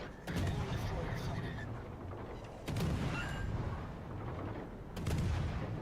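A battleship fires its guns in World of Warships: Legends. Three heavy booms land a few seconds apart over a constant rumbling battle backdrop, while someone talks.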